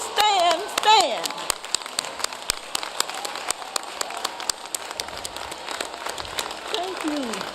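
At a 2018 commencement ceremony, the crowd responds with scattered, uneven claps in sharp separate bursts rather than a full roar, and voices are heard at the start and near the end.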